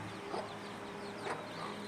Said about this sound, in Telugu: కోళ్ళు చూడు ఎట్లా అవుతున్నాయి, భయపడుతుంది